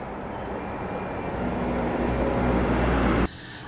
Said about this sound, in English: Okay, so I've just seen the bus fly past me